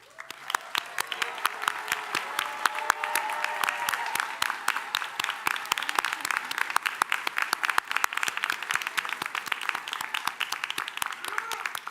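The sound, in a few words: applause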